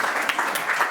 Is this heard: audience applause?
yes